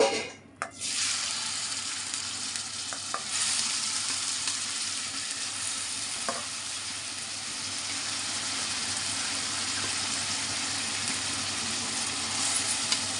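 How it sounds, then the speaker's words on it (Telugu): Finely chopped onions dropped into hot oil erupt into a loud, steady sizzle that holds for the whole stretch with a few faint utensil taps, no voices. "దీంట్లోకి మనం సన్నగా తరిగి పెట్టుకున్న ఉల్లిపాయలను అయితే వేసుకుందాం"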